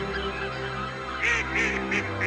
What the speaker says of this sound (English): Not all geese that came here from Siberia and the far north are leaving for winter.